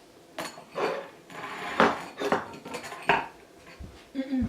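Spoon or utensil knocking and scraping against a mixing bowl as baking mixture is scooped out, a series of irregular clinks and scrapes, close and moderately loud.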